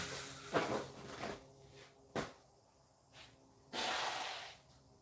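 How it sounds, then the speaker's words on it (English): A person blows their nose in a woodworking shop, with several short, breathy nasal bursts and snorts separated by pauses, close and fairly quiet. "I have to blow my nose"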